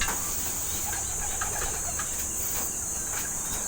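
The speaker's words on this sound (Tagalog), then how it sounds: "Ayan yung mga ibon natin mga kapatid" Racing pigeons cooing and flapping outdoors as they fly, over a steady hiss of background noise, with soft scattered calls throughout.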